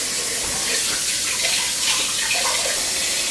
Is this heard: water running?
yes